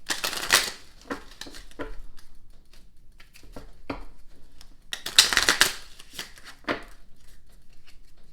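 Tarot cards shuffle in short riffling bursts, several quick papery flurries separated by quieter pauses, close and fairly soft.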